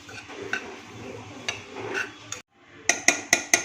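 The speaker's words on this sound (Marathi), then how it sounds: "जिरा आहे तेही एक मिनिटभर परतून घेत आहे" Cumin seeds being stirred and sautéed in a pan, with soft scraping and faint sizzle followed by several sharp metallic clinks of a spoon against the pan near the end.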